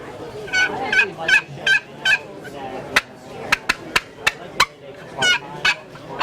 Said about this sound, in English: We have a new box call.